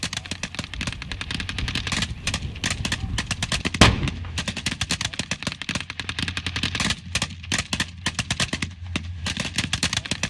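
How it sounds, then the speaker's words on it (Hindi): A tank firing in the war in Syria, with dense, continuous bursts of loud gunfire and heavy booms filling the scene and one especially sharp blast standing out partway through. "मेरे बगल में बिल्कुल एक टैंक है जो फायरिंग जिसने शुरू कर दी है।"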